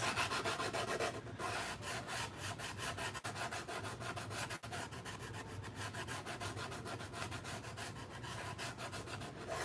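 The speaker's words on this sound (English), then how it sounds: "I do prefer my sanding sticks for small areas like this." Steady, close rubbing strokes of a hand-held sanding stick on a small area of a Mandalorian helmet build, soft and rhythmic, with no talk.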